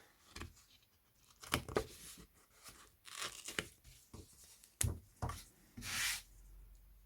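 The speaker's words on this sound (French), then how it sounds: "j'ai plus qu'à détourer tout autour de mon tampon" Scissors snipping around the edge of a rubber craft stamp, with soft, close crisp cuts and rustling in irregular bursts at low volume.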